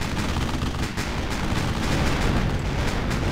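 A dense, continuous barrage of cannon and rifle fire roars without pause in a WW2 battle simulator game. It is loud and saturated, with shots overlapping into one steady wall of gunfire.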